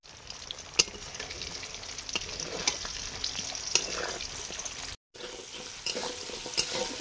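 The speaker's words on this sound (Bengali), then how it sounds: "কুমড়ো ভাজছি।" Pumpkin pieces fry in hot oil with a continuous near sizzle and scattered sharp pops and stir clicks, interrupted by a brief cutout before the crackle resumes.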